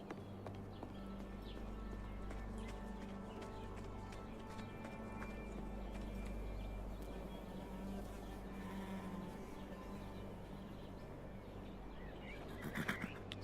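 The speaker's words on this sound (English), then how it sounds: "Yeah, the horse has to eat." Steady clip-clop of horse hooves in a survival video game (HumanitZ) over a constant low ambient hum, with a faint whinny-like burst near the end.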